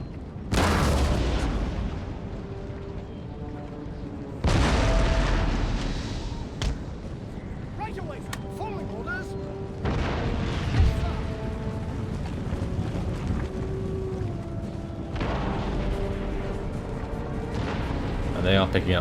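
Cannon volleys boom repeatedly in a Great Britain campaign battle of the video game Empire: Total War, loud blasts every few seconds with rumbling decay, battlefield clatter and faint talk between them.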